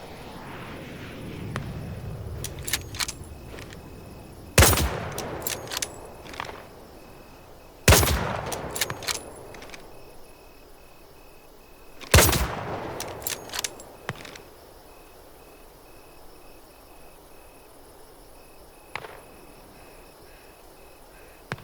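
Sharp, isolated bolt-action rifle shots ring out in a Hell Let Loose: Vietnam target-practice range, three loud cracks spaced a few seconds apart with a fainter fourth shot later, amid quiet ambient game sound.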